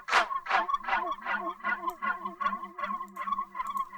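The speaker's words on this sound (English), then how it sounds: "we're starting to hear that the tail is being fully extended because the feedback loop itself is enough to keep the sound sustaining" A rapid series of about ten pulsing, echo-like repeats from a chorus effect in a composite feedback loop in Ableton, each repeat blending into a sustained, warbling tail that keeps ringing steadily.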